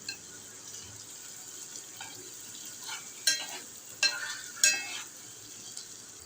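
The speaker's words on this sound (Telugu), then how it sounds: "ఇప్పుడు అందులో కొద్దిగా అల్లం వెల్లుల్లి పేస్ట్ వేసుకుందాం. ఇక పచ్చి వాసన పోయేలాగా వేయించుకోవాలి." Ginger garlic paste frying in a pan for a Telangana-style colocasia (chamagadda) curry, with a low steady sizzle, a few scraping stirs and brief clinks, and no talking.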